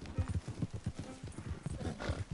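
Horse hooves clip-clop in the video game Red Dead Redemption 2, a steady rapid run of hollow thuds at a brisk gait, close and continuous over a hiss of ambient wind.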